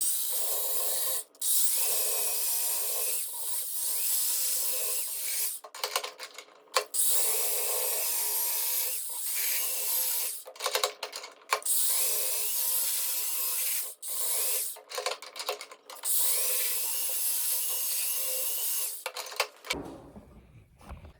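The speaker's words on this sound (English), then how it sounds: "we're gonna get the belt sander and we're gonna sand this even" A belt sander grinds along the uneven end-grain edges of a wooden pencil holder, a loud continuous abrasive rasp broken by short pauses and lifts before the motor winds down at the end.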